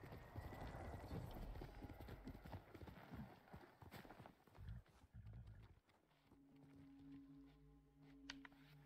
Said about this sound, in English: my horse is certainly in the most perfect spot